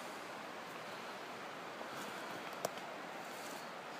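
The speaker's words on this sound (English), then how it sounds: "There's the river down there." A river flowing below, a faint, steady rushing wash heard from a distance with a single soft knock partway through and no talking.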